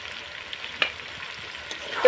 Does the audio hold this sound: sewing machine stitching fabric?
no